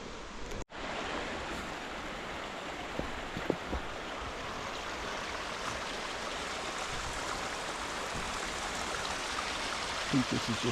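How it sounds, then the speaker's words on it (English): A river heard up close on a bush walk, a steady broadband rush of flowing water filling the whole stretch, with brief footstep and handling knocks on top and no talk. "Getting close to the river."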